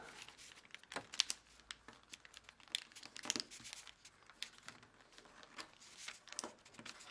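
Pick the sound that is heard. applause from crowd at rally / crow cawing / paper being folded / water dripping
paper being folded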